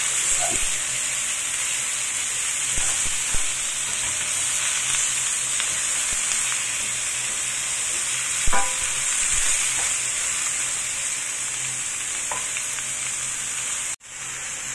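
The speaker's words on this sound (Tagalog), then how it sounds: "I-fry lang natin yan na hanggang maging brown yung kulay niya." Sliced pork belly for adobo fries in a pan until browning, giving a steady, dense sizzle throughout with a few faint clinks of a utensil and a sharp knock near the end.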